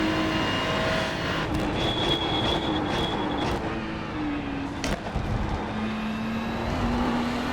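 Ferrari race car on the Monza circuit in a racing game, a steady engine drone with shifting tonal whine and gear changes running continuously throughout.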